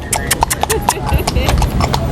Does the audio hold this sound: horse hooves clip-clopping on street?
yes